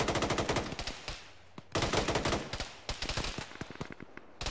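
Rapid bursts of automatic gunfire in the ShackTac military video game, crackling in clustered volleys with brief pauses, loud and close, and no talking.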